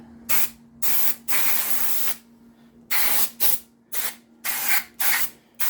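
Aerosol spray can with a turbo nozzle blasting brake parts on a 2013 Kia Soul during a pad and rotor job, in several loud hissing bursts of varying length separated by short pauses, with a steady low hum underneath.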